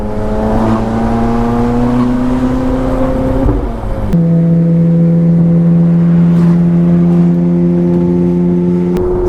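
Aftermarket Ferrari F430 engine revs loudly and up close, a strong rising tone that climbs, drops sharply at a gear change, then climbs again steadily through the gears.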